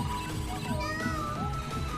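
A cat meows within a Sony PSP shooter game, with a few rising and falling cries layered over busy game music and effects.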